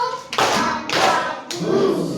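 A class of schoolchildren claps in unison during a rhythm game, with three loud group bursts of many hands and light voices in the gaps.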